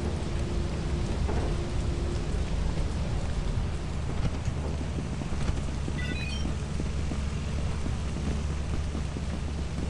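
Heavy rain and rolling thunder in the video game Lethal Company, a dense, constant downpour hiss with deep rumbling throughout, loud and unbroken for the whole stretch.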